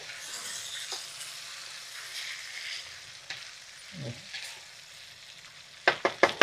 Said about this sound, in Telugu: వేగిపోయిన తర్వాత మనం ఇక ఈ ముక్కలన్నీ వేసేసుకోవాలి కలుపుకొని